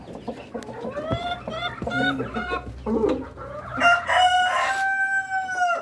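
Rhode Island Red breeder chickens cluck and crow in a cage, several birds calling in overlapping bursts with a drawn-out crow near the end, close and fairly loud over a low background hum.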